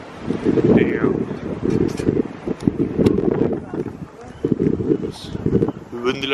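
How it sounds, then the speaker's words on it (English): Strong gusts battering a microphone on the rooftop of a large abandoned hospital, heavy low rumbling bursts that surge and drop repeatedly, with a voice talking intermittently. "But I'm sorry for the windy noise."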